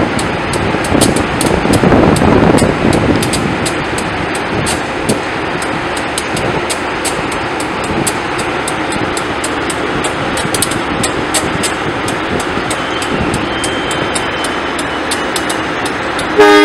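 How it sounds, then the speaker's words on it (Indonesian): A Bandung Raya local train pulls away from Gadobangkong station, with a steady rolling rumble, rhythmic clatter and a loud sustained horn blast near the start, the noise holding throughout at close range. "kereta api lokal Bandung Raya diberangkatkan kembali dari stasiun Gado Bangkong"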